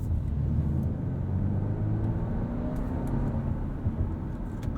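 A 2020 Audi A4 45 Premium all-wheel-drive sedan cruises along, heard from inside the cabin as a steady low engine and road rumble with faint tire hiss, smooth and subdued.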